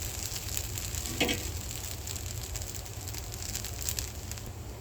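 A dosa sizzles steadily on a hot pan after being flipped, a continuous close frying hiss with faint crackles and no voices.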